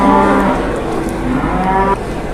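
A jumbo cow weighing about a ton moos loudly and close, one long low bellow followed by a second call near the end.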